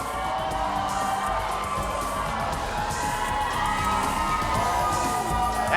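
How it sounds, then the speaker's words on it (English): A raucous arena crowd roars and cheers continuously at the Delta Center before a Utah Jazz game on John Stockton's jersey retirement night, with dense whoops and shouts and no pauses. "As you can tell, it is a raucous crowd"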